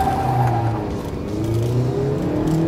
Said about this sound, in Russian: Теперь посмотрим, за сколько Largus разгонится до 100 км в час. Первая передача, кондиционер выключен.